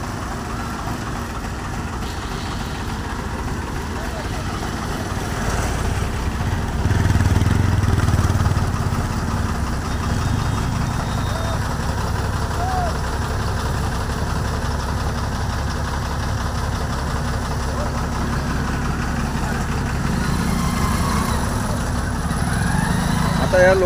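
Vehicles idling in a traffic jam on a rain-flooded road, a low steady engine rumble that swells slightly midway, with voices talking over it throughout.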